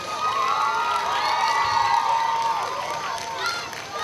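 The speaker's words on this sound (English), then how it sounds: "Let's give a round of applause for the firefighters." A crowd at a fire department open house sprinkler demonstration cheers for firefighters, with lively whoops, high children's shouts and gliding calls layered over a steady murmur of voices, fairly loud throughout.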